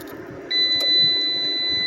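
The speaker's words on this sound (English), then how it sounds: "As you can see, it beeped." A steady high-pitched electronic beep from a DIY solar-powered mini split system starts partway through, when a connection is pulled, and holds as a continuous tone over a low background hum.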